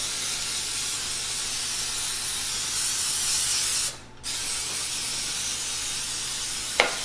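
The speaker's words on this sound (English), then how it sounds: "So I'm gonna spray this with cooking spray really, really well." A can of cooking spray hisses in a long, steady stream, breaks off briefly, then resumes, followed by a short sharp click near the end.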